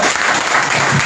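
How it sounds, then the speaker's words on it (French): An audience at a church conference breaks into steady, dense applause, a loud close wash of clapping that fills the whole brief moment without pause. "Est-ce qu'on va acclamer fort pour vous?"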